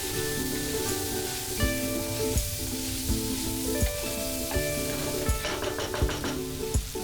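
Black pepper powder, Maggi liquid seasoning and chopped green chilli sizzle loudly in a hot pan, a steady crackling fry broken by several stirring scrapes and clinks.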